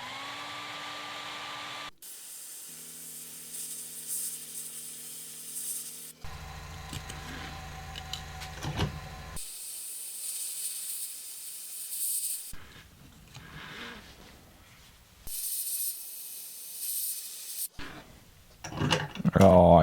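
A hair dryer blows steadily over a freshly painted fishing lure, starting and stopping in several separate bursts with quiet handling noises in the pauses.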